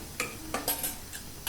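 A spoon stirs a chicken cutlet mixture in a pan. A few quick scrapes and light metallic clinks come up close, spaced irregularly over a quiet background.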